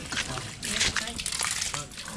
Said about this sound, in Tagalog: Yung tubig na yan, galing po yan dun sa catch basin.